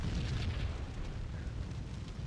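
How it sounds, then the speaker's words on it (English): Explosions in the Max Payne video game form a dense, continuous low rumble with loud booming bursts layered together, sustained throughout without a break. "Okay, I'm gonna wait out those explosions."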